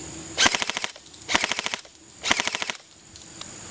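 G&G GR16 DST carbine airsoft electric gun firing in blowback mode: three short full-auto bursts of rapid mechanical clacks, close and loud, with brief pauses between them.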